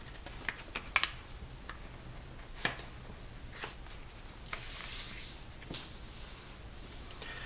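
Paper for an origami piccolo butterfly is folded across and creased, making soft crackles, brief taps and one longer rustling sweep, quiet and close with no speech.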